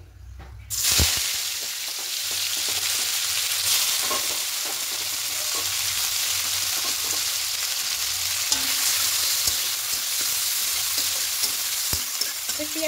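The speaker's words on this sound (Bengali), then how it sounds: "এবার এই তেলের মধ্যে দেবো পেঁয়াজ কুচি।" Chopped onion sizzles in the oil left in a kadai after frying eggs. A loud, continuous hiss runs throughout, broken by scraping stirs and occasional spoon knocks against the pan.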